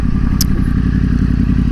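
A Yamaha YZF motorcycle engine running loud and close, a dense steady rumble as the revs are brought up smoothly, with one brief clink.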